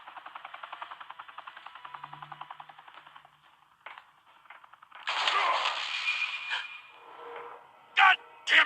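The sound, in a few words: gunshots in a Batman video game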